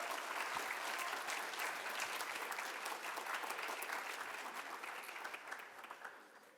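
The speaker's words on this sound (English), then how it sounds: "So give her a round of applause as she approaches the stage." A Veterans Day program crowd gives sustained applause, thick and steady clapping from many people that gradually thins and fades over the final seconds.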